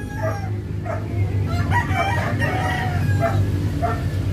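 A sweater-line gamecock broodstag, about seven months old, crows loudly and close over a constant, dense farmyard background.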